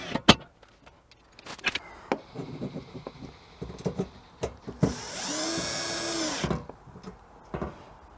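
A power drill runs in one sustained burst of whirring, driving screws into a rear cargo rack on a Toyota 4Runner, surrounded by close clicks, clanks and handling of parts.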